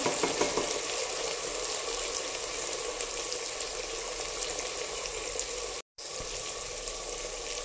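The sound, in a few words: sautéing rice mixture in a pan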